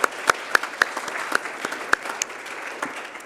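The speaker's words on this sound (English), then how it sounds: "Yes, one more round of applause." A church congregation gives a short round of applause for the musicians after the service music, a smaller group whose individual hand claps stand out sharply within the patter.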